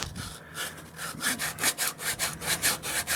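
Bondo filler on a 1929 Chrysler running board is hand-sanded in quick, rhythmic back-and-forth strokes, close and raspy, speeding into an even scrubbing cadence with no talking.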